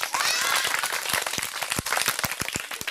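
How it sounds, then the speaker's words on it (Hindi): Loud, dense applause from a crowd, many hands clapping at once and holding steady for the whole stretch. "तो एक बार जोर से ताली मार दियो"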